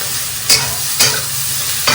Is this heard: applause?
no